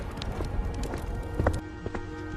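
Quick cartoon footsteps as Lakhan runs home before the rain, a clip-clop patter of light repeated hits at moderate level over a busy background.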